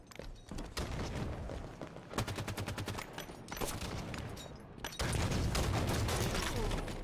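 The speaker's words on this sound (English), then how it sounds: "I'm just gonna throw a bunch of grenades and hope I kill people." Grenades and gunfire in Halo 5 multiplayer, a dense barrage of loud booms and rapid shots with bursts of automatic fire, sustained and close throughout.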